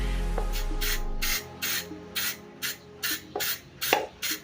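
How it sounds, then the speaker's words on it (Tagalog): A spray product is tested in a workshop, letting out a series of about nine short, sharp pressurized bursts in an even rhythm, close and loud, after a brief low hum. "spray ko na siya para ma-testing natin"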